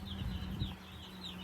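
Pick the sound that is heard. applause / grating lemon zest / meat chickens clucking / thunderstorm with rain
meat chickens clucking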